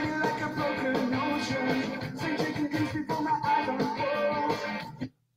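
A guitar plays the first verse of a song cover, with steady rhythmic strummed chords and accents for about five seconds before stopping abruptly, with no voice over it.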